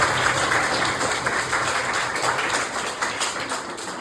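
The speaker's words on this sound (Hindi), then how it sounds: "एक जोरदार तालियां आप लोगों के लिए." Loud, sustained applause from a gathering at a family retirement celebration, given for children after their performance; dense steady clapping fills the whole stretch without pause.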